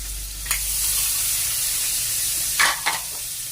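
Tomatoes dropped into a pan of garlic and onion already frying in oil, giving a steady close sizzle with a few sharper bursts of spitting as they hit the hot pan.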